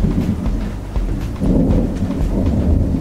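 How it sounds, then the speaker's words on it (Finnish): Thunderstorm with rain: heavy low rumbling thunder rolls continuously over a dense patter of rainfall, loud and close, with swells in intensity partway through. "Täällähän käy ukkonen, herranjumalainen, sataa."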